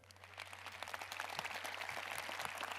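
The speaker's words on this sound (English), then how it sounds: "Let's give Tom a big round of applause" An audience at a public speaking presentation applauds a winner named Tom, a rising patter of many hands clapping, moderately distant, over a steady low electrical hum.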